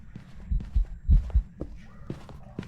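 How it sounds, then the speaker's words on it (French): Ghost footsteps in the horror video game Phasmophobia thud as a series of dull, heavy, irregular low thumps, moderately loud against a quiet background. "Écoute les bruits de pas."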